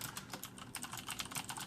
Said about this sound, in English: I find myself typing particularly faster with this spacebar here